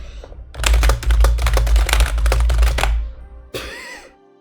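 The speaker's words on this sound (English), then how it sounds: "Do you want to hear me typing" Hard, fast typing on a keyboard makes a dense, loud clatter of keystrokes for about two and a half seconds, close up, then stops, and a brief fainter sound follows.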